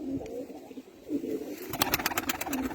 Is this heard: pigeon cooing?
yes